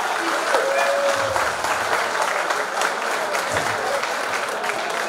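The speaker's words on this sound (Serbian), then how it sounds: "Zato jedan veliki aplauz za sve goste iz susjednih država." An indoor hall audience at a formal assembly applauds guests from neighbouring countries, a steady, dense wash of clapping that holds evenly for several seconds without pause.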